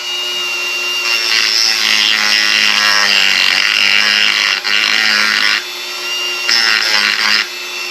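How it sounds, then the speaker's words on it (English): A Dremel rotary tool with a small cutoff wheel spins at high RPM, cutting into a shock collar in loud, sustained bursts with brief dips and a short pause before resuming. "I'll just take my Dremel, and this is just with a small cutoff wheel on here"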